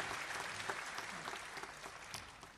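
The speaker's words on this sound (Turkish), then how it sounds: "Necdet Yaşar hocamıza ilk önce kuvvetli bir alkış rica ediyorum." A concert audience honoring a master musician breaks into dense, vigorous applause, steady and close, with a few sharper claps standing out as it slowly tapers.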